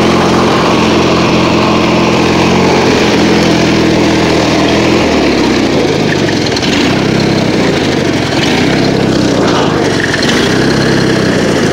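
A small racing engine runs near and loud at about half throttle, a steady buzzing drone with a slight pitch dip partway through and no talk over it.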